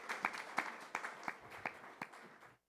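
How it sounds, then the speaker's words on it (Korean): A church congregation at a Sunday service claps in a faint, fairly distant steady rhythm, the regular beats fading out at the end. "하나님께 영광의 박수 올려드리겠습니다."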